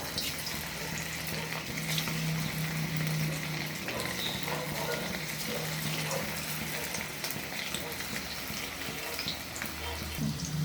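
Marinated chicken pieces frying in hot oil for chili chicken, a steady broad hiss and crackle with a low hum running throughout at a constant level.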